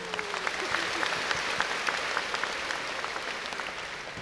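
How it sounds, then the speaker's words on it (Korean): A crowd at a Korean cultural festival applauds in a dense, sustained wash of clapping that holds steady throughout, with no voices. "여러분 큰 박수 부탁드립니다."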